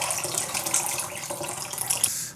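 Water poured steadily into dongchimi radish brine, a continuous close splashing and trickling stream that tapers off at the end.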